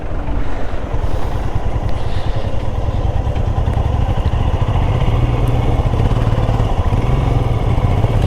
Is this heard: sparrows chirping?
no